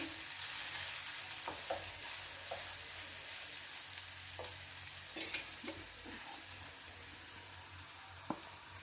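Cabbage curry cooks in a pan with a faint, steady sizzle under a constant background hiss, broken by a few soft clicks and taps of a utensil.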